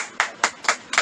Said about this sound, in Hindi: सब जन ताली बजाओ।